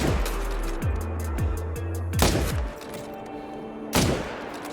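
Rifle shots fired at moose while hunting in theHunter video game, Medved Taiga reserve, a .300 rifle in use: several sharp loud reports with rumbling echoes, spaced a second or two apart.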